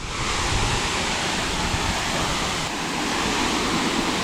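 A waterfall in Hawaii roars in a steady, dense rush of falling water, loud and close, with no voices and no break for the whole stretch.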